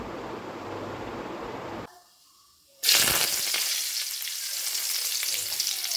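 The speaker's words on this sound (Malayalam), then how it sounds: "എണ്ണ ഒന്ന് ചൂടായി വരുമ്പോൾ അതിലേക്ക് നമുക്ക് ആവശ്യത്തിന് കടുക് ഇട്ട് കൊടുക്കാം" Mustard seeds spluttering in hot oil in a pan, a dense crackling sizzle that breaks off briefly and then returns louder and steadier, close with no talk.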